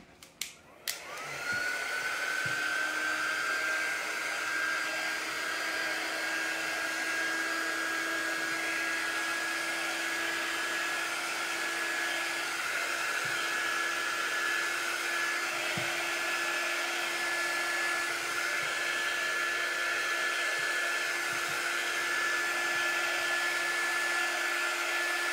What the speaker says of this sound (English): And this is just a heat gun.